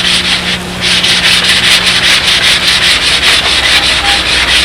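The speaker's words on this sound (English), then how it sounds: "before I hot stuff the backside, I want to block sand in this seam" A sanding block rubs back and forth along a wooden seam, producing a loud, close, continuous rasping hiss with a steady stroke rhythm and no talking.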